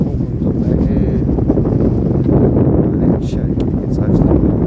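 Heavy wind buffets the microphone at night while a DJI Mini 4K drone is flown, a loud, dense, roaring rumble throughout, with someone talking under it.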